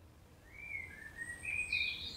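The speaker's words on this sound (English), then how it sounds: "You can hear the birds chirping" A few thin bird chirps and a short trill rise faintly over quiet outdoor background, growing slightly louder toward the end.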